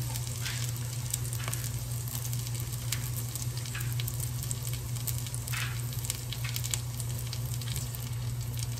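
Mushrooms and garlic fry in butter in a pan, giving a steady, close sizzle with faint pops and occasional stirring throughout.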